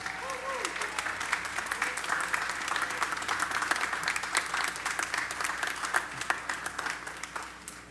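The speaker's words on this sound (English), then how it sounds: "Let's hear a big applause for all of those." Steady, dense applause from a concert audience at an outdoor Fourth of July concert in San Angelo, sustained at an even level for the whole stretch with no voices clearly standing out.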